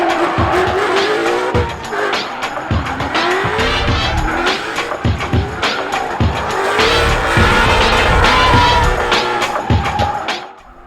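A car drifting at a Las Vegas auto show, with tires squealing loudly and continuously over the roar of the engine, rising and falling through repeated slides, a crowd faintly in the background.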